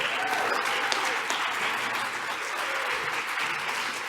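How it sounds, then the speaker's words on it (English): An audience at the Sir Arthur C. Clarke Innovation Awards ceremony claps steadily in dense, sustained applause, loud and close, with no speech over it. "Let's give him our applause."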